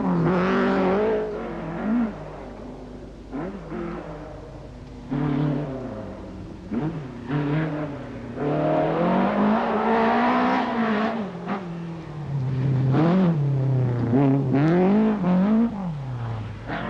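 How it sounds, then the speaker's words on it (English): A two-wheel-drive Nissan rally car on the 1985 Lombard RAC Rally passes through a forest stage with its tail sliding out, the engine loud and close, rising and falling with repeated revs and gear changes. "Terry Cabe's Nissan appearing from behind the trees. See the back swinging out."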